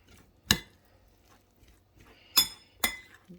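Utensils clink against a dish as food is mixed for lunch, three sharp separate taps spaced over a few seconds with quiet scraping between.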